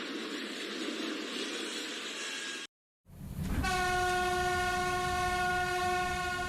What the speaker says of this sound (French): lorsque les tests de freinage d'une locomotive électrique ne se passent pas comme prévu